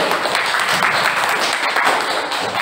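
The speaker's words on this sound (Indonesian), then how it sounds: "Tepuk tangan dulu untuk kelompok 1." A classroom group claps together in dense, steady applause for a student team, close and loud throughout.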